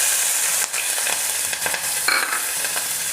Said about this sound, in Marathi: या ठिकाणी बघू शकता किती छान मिरच्या मस्त तेलामध्ये तळलेल्या आहेत।